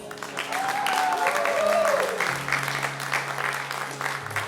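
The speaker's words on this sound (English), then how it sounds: "She deserves a big round of applause." Live audience at a concert applauds the singer's wife, steady clapping from a crowd with a few whoops rising over it and a low sustained instrument tone underneath.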